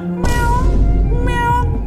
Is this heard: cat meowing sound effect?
yes